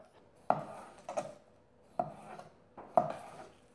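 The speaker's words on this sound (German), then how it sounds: "Und ähnlich wie bei einem Gulasch schneide ich das jetzt in schöne große Stücke." Knife chopping boneless lamb leg into large stew pieces on a board: four or five sharp, separate thuds spaced about a second apart, close and clear with no talking.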